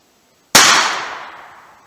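A single loud, close gunshot from a .38 Special revolver firing a 200-grain lead-bullet load over 3 grains of Power Pistol powder: one sharp crack that decays over about a second.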